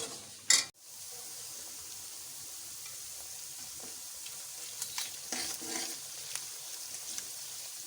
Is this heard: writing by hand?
no